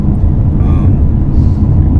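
A Mercedes-Benz C300 driven fast along curving back roads gives a steady, loud low rumble of engine and road noise throughout, with no talking.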